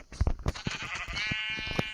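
Sheep bleating in the video game Minecraft, a handful of short, close bleats in quick irregular succession, fairly loud and alone.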